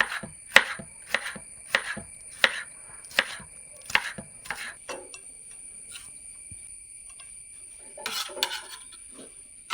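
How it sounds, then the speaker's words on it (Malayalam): A knife chops carrots, cabbage, capsicum and red chili on a cutting board, giving a steady run of crisp, evenly spaced strikes at close range, then a pause and a short final burst. "ക്യാരറ്റും ക്യാബേജും ക്യാപ്സിക്കം മുളകൊക്കെ കട്ട് ചെയ്ത്"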